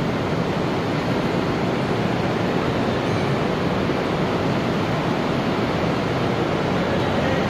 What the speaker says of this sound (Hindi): आवाज सुनो, ये बारिश हो रही है इतनी तेज से